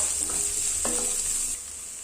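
Small shallots sautéing in a pan for potato thoran, a steady close sizzle with a couple of spoon scrapes stirring through it, softening slightly at the end, no talk.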